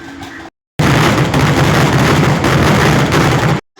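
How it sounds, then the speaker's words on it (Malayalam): A festival fireworks display at Ettam Madam in Chalakudy erupts in a loud, dense roar of explosions that runs on without a break for about three seconds, then cuts off abruptly. "കപ്പലമ്പ് കയറി അപ്പം തന്നെ വെടിക്കെട്ടാണ് കേട്ടോ"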